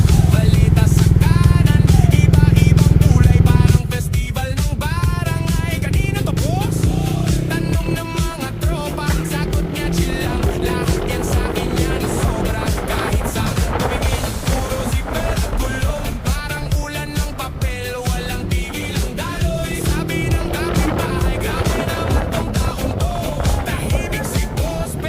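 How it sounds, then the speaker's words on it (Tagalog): Motorcycle ride with a steady rush of engine, road and wind noise that stays loud and dense the whole way through, opening with a heavier low rumble for the first few seconds. "na-miss ko rin na magsama kami ni Papa Eds na ano, motor"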